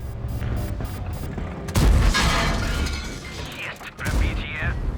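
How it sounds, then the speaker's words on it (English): In a tank video game, an enemy shell strikes the tank's ammo rack with a sharp crashing impact and mechanical clatter, followed by a rumbling boom and rattling debris, with a voice talking over part of it. "He hits my ammo rack."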